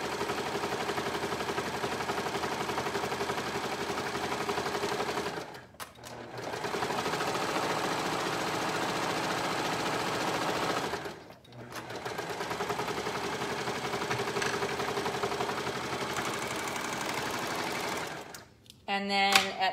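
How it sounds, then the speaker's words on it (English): Sewing machine running steady long bursts while stitching two layers of fabric around the curve of a hood, loud and close, with two brief pauses and a short clatter at the end. "I'm sewing these two layers together around the curve of the hood"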